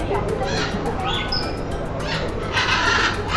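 A bird calls at a small urban petting farm in Seri Kembangan, with short chirps and squawks over a busy, noisy background and nearby voices of visitors.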